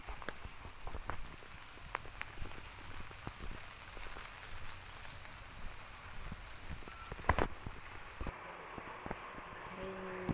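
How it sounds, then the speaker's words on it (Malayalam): Heavy rain pours down steadily, a dense patter of drops on surfaces nearby with scattered louder splashes. "ഭയങ്കര മഴയാണ്"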